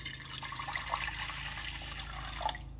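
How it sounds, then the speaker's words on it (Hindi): Three cups of water poured into a cooking pot on a lit stove for turnip and meat shaljam gosht, a faint, steady splashing and trickling with a low background hum and no talking. "सबसे पहले हमने पानी के 3 कप ऐड करने हैं।"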